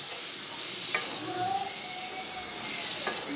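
Cubed tomatoes go into a pan of frying capsicum for a chilli prawn dish, giving a steady loud sizzle with a few scraping stirs of a utensil against the pan.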